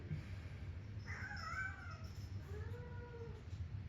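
A cat meows twice, a rising then falling cry followed by a shorter one, faint and nearby over a low steady background hum.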